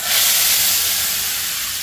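Hot tempering of curry leaves and turmeric poured into burnt-brinjal rasam gives a close, steady, loud hiss. It lasts about two seconds, easing slightly toward the end, with no talking.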